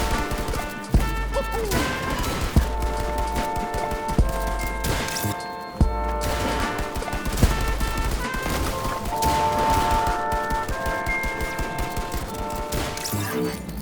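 Pump shotgun blasts in the video game Fortnite ring out as sharp, heavy shots roughly every second or two, layered over busy in-game music and crashing effects.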